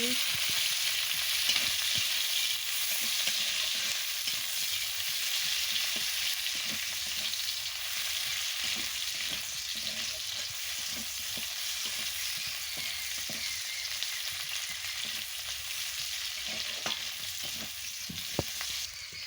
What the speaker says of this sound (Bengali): দিয়ে ভালো করে পেঁয়াজ কুচিটাকে ভেজে নিচ্ছি